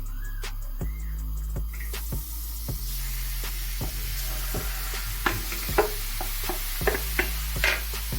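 Diced meat for saç kavurma sizzles on a hot sac griddle with a steady hiss, punctuated by sharp metallic scrapes and taps of a spatula stirring it, close up.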